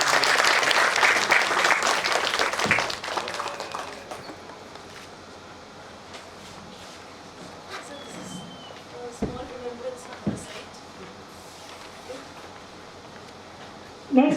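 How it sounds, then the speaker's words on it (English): Applause from a conference audience at a leadership conclave, loud and dense at first, then thinning out after a few seconds into a low murmur of voices with scattered claps. "Huge round of applause for sir."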